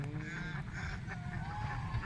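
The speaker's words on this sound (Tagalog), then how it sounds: "Yung mga yung goose, gansa." Geese honk repeatedly nearby on a duck farm, overlapping nasal calls over a low rumbling background.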